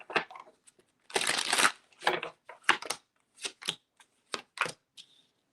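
Tarot cards being shuffled by hand, with a quiet run of papery riffles, slaps and rustles in irregular bursts and no talking.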